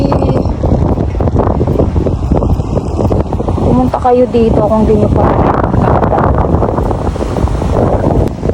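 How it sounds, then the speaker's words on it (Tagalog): Strong wind on a trek to Bote Lighthouse in Catanduanes buffets the microphone in loud, continuous roaring gusts, with a person speaking briefly partway through. "grabe ang lakas ng hangin"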